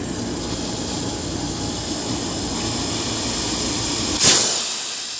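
Steady, loud hiss of R11 refrigerant being flushed through a split AC system's indoor cooling coil and condenser, broadband and continuous, with a sharp burst near the end before it fades.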